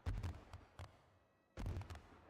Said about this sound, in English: Is that fireworks?